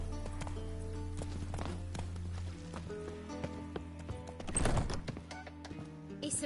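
Hooves of Roach, Geralt's horse in Witcher 3, clopping along at a steady walking pace under quiet game sounds, with a brief louder scuffle or snort partway through.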